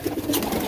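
A Teddy pigeon cooing close by, a couple of soft low burbling coos within a brief moment, with some background rumble.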